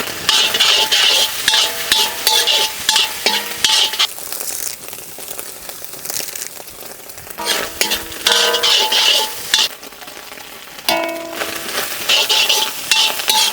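Crumbled eggs are mixed with turmeric, salt, curry leaves and green chillies for biryani masala, giving loud, close scraping and clattering stir strokes in bursts, with short pauses between rounds.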